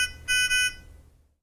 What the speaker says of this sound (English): You can silence the audible alarm for 2 minutes by momentarily pressing the on-off button.